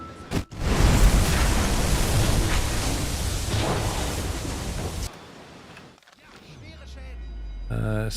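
A torpedo strikes a ship and explodes in a naval video game, first a sharp impact and then a loud, long roaring blast with surf-like wash that cuts off abruptly. Quieter rumble and other game sounds follow.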